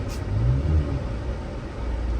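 An Opel Vectra C has its engine revved. The low rumble swells briefly and then settles back to a steady idle, close and moderately loud, with no talking over it.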